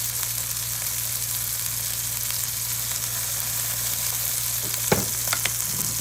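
A meat patty fries on a hot griddle as a steady, even sizzle with a low hum underneath, and a few sharp scrapes or taps come near the end.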